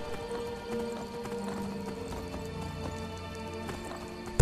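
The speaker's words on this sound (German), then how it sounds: "Dann reiten wir jetzt einfach mal querfeld ein." Horse galloping cross-country in the video game Skyrim, a steady rapid clip-clop of hooves with a brief whinny, heard under a constant bed of game ambience and music.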